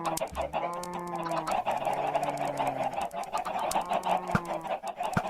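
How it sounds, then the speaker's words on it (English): Chickens in an automatic chicken farm in a blocky sandbox video game, a crowded chorus of clucking and squawking hens with overlapping calls, fairly close and continuous. "Oh, so it's an automatic chicken farm."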